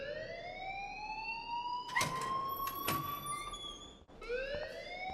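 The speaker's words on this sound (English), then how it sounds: "please turn off that alarm since that's your job" A fire alarm rings in the video game Life is Strange, a steady electronic tone whose pitch climbs slowly, cut briefly by a few sharp knocks and one short gap partway through.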